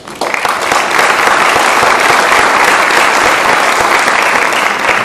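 Dense, loud applause from an audience at a developer community gathering, a steady wash of many hands clapping that keeps going without a break.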